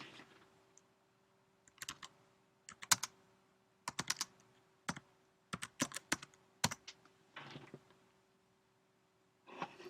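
Bursts of clicky typing on a computer keyboard, close and moderately loud, coming in irregular clusters of keystrokes separated by short pauses, with no talking.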